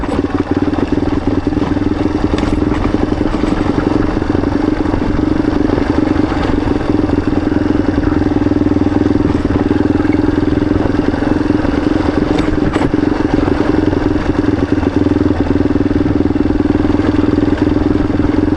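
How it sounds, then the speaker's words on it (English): A motorcycle runs on a winding mountain road from Tusquittee Road to Tuni Gap, engine braking with a steady, close, mid-pitched drone and light mechanical clatter over wind rush throughout. "But just let some engine braking do the job."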